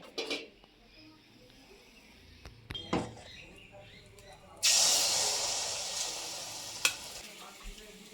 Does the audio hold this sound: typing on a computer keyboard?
no